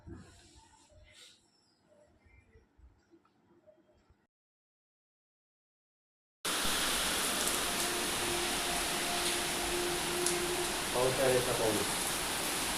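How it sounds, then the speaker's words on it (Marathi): Heavy Diwali-season rain with stormy wind in Dharashiv, a loud, steady broadband roar that starts suddenly after quiet speech and a silent gap and continues to the end. "दिवाळीचा पाऊस कधी एवढं वादळ वाऱ्याचा पाऊस पाहिला का"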